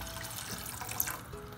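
Water pouring steadily into a pan of ground beef, a continuous close splashing trickle with a faint drip near the end.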